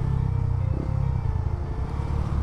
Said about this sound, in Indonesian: Itu suara motor apaan tadi, kedengeran banget? Suara motor gue.